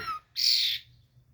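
An agitated wild bird gives a brief chirp, then one loud, harsh, drawn-out squawk close by, with quiet between the calls.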